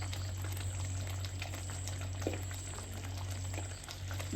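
Tamarind curry (puliyinji) boils in a pan with a soft, steady bubbling hiss. It stays faint and continuous, sitting over a constant low hum, and no one speaks.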